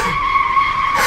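Car tires skid in the racing game Assetto Corsa, a loud sustained squeal with a steady tonal whine, heard alone for about a second before it cuts off.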